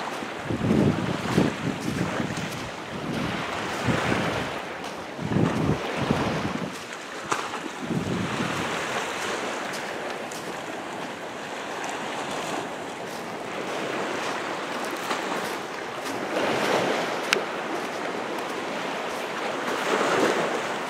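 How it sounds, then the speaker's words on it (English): Gusty wind buffets the microphone over rolling ocean surf on an East Coast beach, with waves surging and receding in uneven swells, fairly loud and with no voices. "It'd be alright if it wasn't for the wind, but good luck finding a day on the ocean with no wind."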